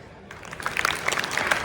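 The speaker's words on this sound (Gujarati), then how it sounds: "આપણે પણ તાળીઓથી દરેકને સન્માનિત કરીએ અને સ્વાગત કરીએ" Audience clapping at a school prize distribution and farewell, building from scattered claps into steady, moderately loud applause from a crowd, with no one talking over it.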